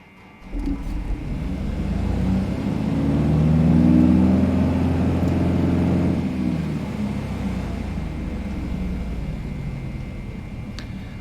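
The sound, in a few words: Beechcraft Bonanza V-tail aircraft engine starting up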